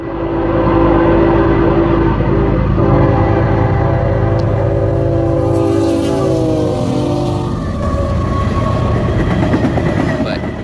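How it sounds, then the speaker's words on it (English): An SD40-3 diesel locomotive passes close by with a loud sustained horn blast over the heavy engine rumble and rail noise, the horn tones shifting as the train goes by. "you can actually hear the train better. You get a lot more sound from the train."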